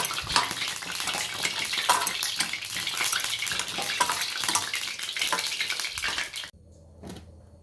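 Hot oil sizzles loudly and steadily in a pan before bara are added to fry, then cuts off abruptly near the end, leaving a faint low hum.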